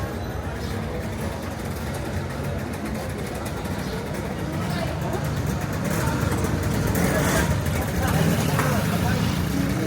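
Old buses rumble along a busy Sri Lankan street market area, with a steady low engine drone and traffic noise throughout, under frequent nearby talk.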